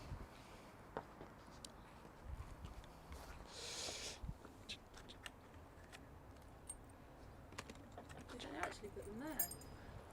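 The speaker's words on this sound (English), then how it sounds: "Look where the keys are." A bunch of house keys jangles briefly at a key collection, light metallic clinks coming in a few short bursts amid quiet background movement and faint footsteps.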